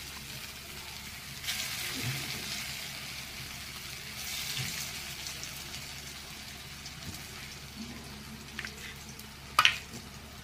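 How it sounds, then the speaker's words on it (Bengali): Pieces of pea dhoka fry in hot oil in a wok, giving a low, steady sizzle with soft clatters of stirring and a sharp clink near the end, with quiet speech underneath. "এগুলো এক এক করে ভেজে তুলে নিয়ে যাবে।"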